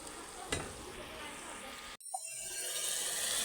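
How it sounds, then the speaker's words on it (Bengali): Spice paste (masala) sautéing in a pan on an electric stove, a loud steady sizzle with stirring, briefly cut off for a moment and then returning stronger and hissing close by. "মশলাটা ভালো করে কষিয়ে নিই"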